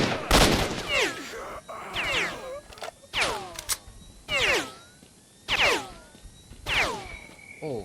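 Enemy gunfire coming through a wall in S.T.A.L.K.E.R.: Shadow of Chernobyl, about six separate sharp bursts of shots at irregular intervals, each followed by ringing ricochets and a short decaying tail, with no talking.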